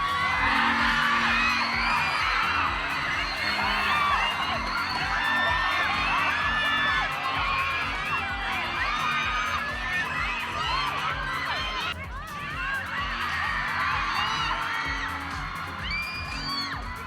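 A large crowd of fans cheers at a live performance in Mindanao, a dense, loud, sustained roar of whoops, screams and shouting that barely lets up throughout.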